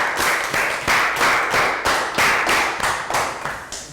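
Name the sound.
children's round of applause in class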